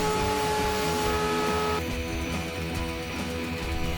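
Router with a flush trim bit cutting a guitar neck outline against a template, a loud, steady high-pitched whine with a harsher cutting texture as the bit bites into the wood partway through.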